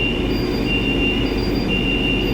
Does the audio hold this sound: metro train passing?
yes